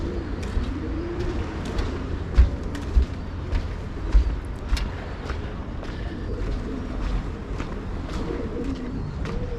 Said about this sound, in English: I think it's the sound of the doves underneath those buildings echoing through.